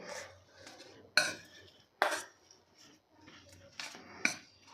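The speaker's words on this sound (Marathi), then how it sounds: "आता हे बटाटे आपल्याला ह्या मॅशरने मॅश करून घ्यायचे आहे" Soft boiled potatoes are mashed with a masher in a vessel, giving quiet squishing broken by a few sharp metallic clanks at irregular intervals, with no talking.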